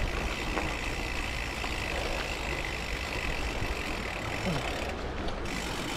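Steady road traffic drones in the background, a low engine rumble with vehicles idling and passing, moderately distant.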